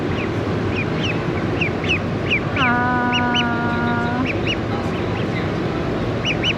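A duck at an Indiana farm show quacks in a repeated series of short calls over a constant crowd and machinery din, while a long steady whistle-like tone sounds briefly through the middle.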